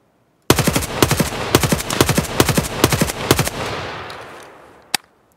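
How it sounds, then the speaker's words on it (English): Full-auto rifle fire in the game Escape From Tarkov, loud close bursts of rapid shots in several short strings, then a fading tail and one last isolated shot. "we'll shoot bursts at the right side of this shed"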